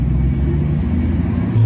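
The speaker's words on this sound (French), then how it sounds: "Bugatti Chiron Pur Sport." A Bugatti Chiron Pur Sport drives past on a Monaco street, its engine a loud, steady low rumble that holds throughout and swells slightly near the end.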